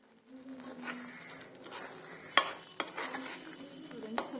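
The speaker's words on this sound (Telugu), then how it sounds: "పచ్చివాసన పోయే వరకు వేయించాలండి ఇలా బాగా వేగనివ్వాలండి" Ground masala paste fries in a pan for stuffed eggplant curry, giving a soft sizzle broken by spoon stirs and a few sharp clinks against the pan, close and quiet.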